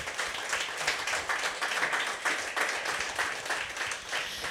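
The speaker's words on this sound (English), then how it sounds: "Y'all clap it up for our panelists." A panel-event audience claps for the panelists, moderately faint and somewhat distant, with the clapping rising and falling in uneven bursts throughout.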